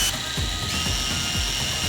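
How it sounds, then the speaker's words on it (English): Drill boring a 1 1/8 inch hole into a wooden pinewood derby car block clamped in a vise with a paddle or Forstner bit, a continuous close whirring grind with rhythmic cutting pulses. "use a 1 1/8 inch paddle or Forstner bit to drill a hole deep enough for the lights to intersect"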